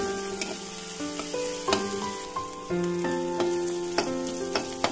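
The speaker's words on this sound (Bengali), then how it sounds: "মানে ভেজে নেবেন পেঁয়াজটাকে ভালো করে, লাল লাল করে।" A pan sizzles steadily, with sharp clinks and scrapes of a utensil striking the metal at irregular intervals.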